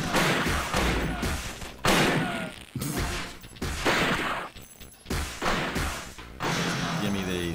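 Gunfire in a robot arena shooter video game, a string of punchy blasts and crashes at a steady pace with game music, under a speaking voice.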